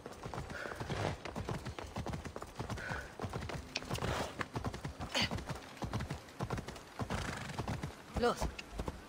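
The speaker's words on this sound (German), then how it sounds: "Okay, Pferd möchte nicht hier runter." A horse's hooves clip-clop in the video game Assassin's Creed Odyssey, a rapid uneven rhythm of hits over game ambience, at moderate loudness and fairly close.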